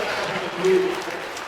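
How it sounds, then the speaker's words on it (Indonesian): A church congregation claps steadily in a dense wash of applause, with a voice faintly underneath. "Mari kita tepuk tangan 1 menit kepada Tuhan"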